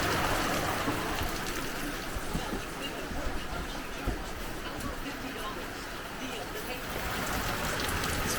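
Steady New Mexico rain falls and patters on surfaces nearby at a campsite, a constant wash of drops with trickling water mixed in.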